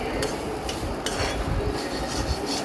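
Grated coconut stirred in coconut oil in a pan as it browns, with steady scraping and rubbing strokes of a utensil against the pan and occasional light clinks, close up and alone.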